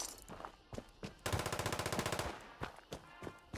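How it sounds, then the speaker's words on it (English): Automatic gunfire rattles in a sustained burst in Fallout 76, loud and rapid, set between scattered single shots and clicks from the game. "What are you shooting"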